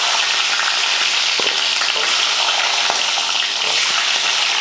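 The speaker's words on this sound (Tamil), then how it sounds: "இப்போ நம்ம எண்ணெயும் காஞ்சிருச்சு தாளித்து விட்டுறலாம் கொஞ்சம் கடுகுலுந்து கொஞ்சமாக கருவேப்பிலை அப்புறமா பார்த்தீங்கன்னா சின்ன வெங்காயம்" Mustard seeds, curry leaves and shallots tempering in hot oil for sambar rice, a loud, dense, continuous sizzle and spatter heard up close, with faint crackles scattered through it.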